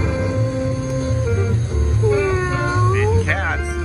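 Cartoonish cat meows sound from a Buffalo Deluxe slot machine in a casino, several rising and falling mews over the machine's steady electronic music and chimes.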